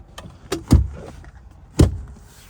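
Rear seats of a Honda CR-V fold down in a few quick mechanical movements, with two heavy thumps as the seatbacks drop and lighter clicks before them, close and loud.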